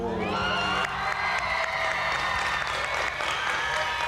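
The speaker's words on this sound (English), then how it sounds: "every time there's a applause break, you can hear the like fangirls in the crowd" Studio audience at a Thai boy-group competition show applauding steadily, with high excited cheers and squeals from fangirls rising above the clapping throughout, under a continuous bed of music.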